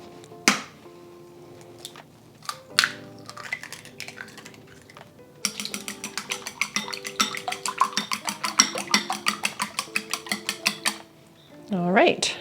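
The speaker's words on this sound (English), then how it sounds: "I'm using 3 eggs, and I'm just going to lightly beat them." Three eggs being lightly beaten in a bowl for kimchi fried rice, a quick run of rhythmic clinking whisk or fork taps against the dish, close and clear, after a few separate knocks and clatters, with no talk.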